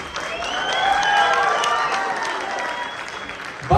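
Applause from an audience at a university team competition final, a steady dense clapping that swells slightly and then holds, with no voices over it.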